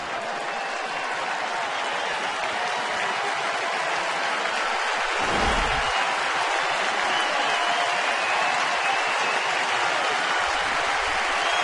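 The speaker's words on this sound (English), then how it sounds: "Not sure the fans are cheering more, Bobby or Derek." Baseball fans at an Atlanta Braves home game against the Florida Marlins cheer and applaud in the stadium, a dense, loud, sustained roar of clapping and crowd noise from start to finish.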